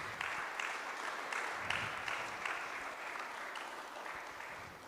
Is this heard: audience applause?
yes